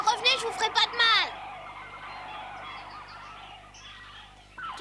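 Migratory birds in a French cartoon episode honk and call briefly at the start in a quick cluster of cries, fading into a soft background hum with light effects near the end.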